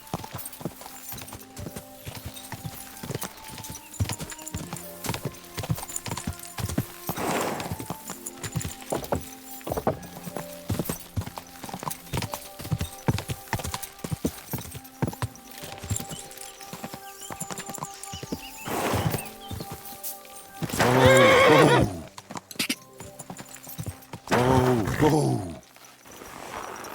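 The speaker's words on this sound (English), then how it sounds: "That looks like a bloody expensive horse." Horse hooves clip-clop at a steady gallop with occasional neighing from a horse in the medieval game Kingdom Come Deliverance 2, mixed with game music and bursts of voices, fairly close and moderately loud.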